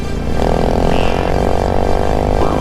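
Father and son riding motorcycles side by side along a green lane, loud, close engines droning steadily with a rising, revving tone.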